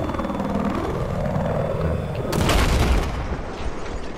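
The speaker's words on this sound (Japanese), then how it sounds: "今ヘリが撃墜です" Steady helicopter rotor drone in Battlefield 4 with a loud boom as the helicopter is shot down partway through, then the engine noise fading into a rumbling aftermath.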